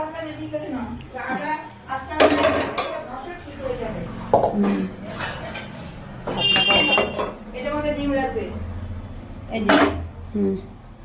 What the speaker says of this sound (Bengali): হ্যাঁ, কড়াইতে বসাবো তো, কড়াই খুঁজছি।